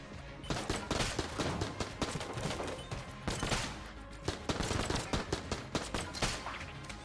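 Rapid bursts of video game gunfire, many sharp shots in quick clusters that keep going without a pause, close and loud with no voices.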